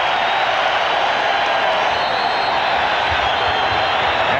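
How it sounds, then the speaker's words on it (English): A basketball arena crowd roars during an NBA Finals game between the Chicago Bulls and the Seattle SuperSonics, a dense, loud, sustained wash of cheering that stays steady throughout. "And this crowd exploding."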